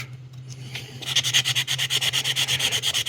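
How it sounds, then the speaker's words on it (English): Sandpaper rubs a plastic model kit part in quick, regular back-and-forth strokes, a close raspy scratching that starts after a second of quiet over a low steady hum. "I'm going to try to sand that out."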